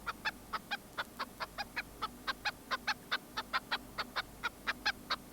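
A chicken gives its aerial predator alarm call: a rapid, even series of sharp clucking calls, about four per second, steady and fairly close.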